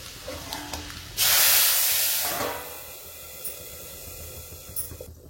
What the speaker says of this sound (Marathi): आता आपण भाजीला फोडणी देऊ.